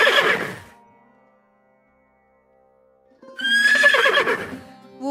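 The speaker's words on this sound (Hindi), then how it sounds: "इसी दौरान वहां से एक घुड़सवार गुजर रहा था।" A horse whinnies twice, loud and close, one short neigh at the start and a longer, wavering neigh after a few seconds of silence.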